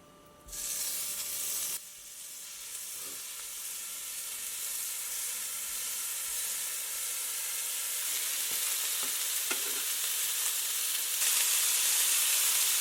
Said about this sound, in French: faire les boulettes et de les faire cuire dans une poêle